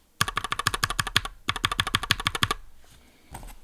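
Keyboard fitted with modded Everglide Jade switches being typed on in two quick bursts of about a dozen crisp, evenly paced keystrokes each, close and clear, ending in a brief pause and a couple of final taps.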